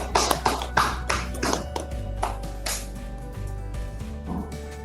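A classroom of students claps briefly for a classmate who answered during an Islamic studies peer-teaching lesson, a quick burst of close, uneven hand taps over a steady low hum, fading after about two seconds.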